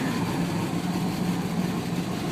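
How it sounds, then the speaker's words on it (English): A Ford GT40 idles with a steady, low engine rumble, a constant mechanical drone holding at an even level with no revving. "it's a Ford GT40"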